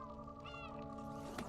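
A cat meows in a cutscene of the game Stray over a steady electronic backdrop of layered tones, with a brief brighter swell near the end.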